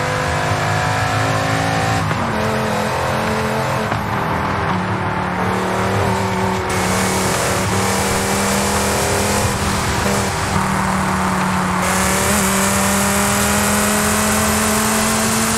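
Sports car in Forza Horizon 5 revving hard through the gearbox, a loud, close engine whine that climbs in pitch, drops sharply at each upshift and climbs again, with faint gear noise and no voices.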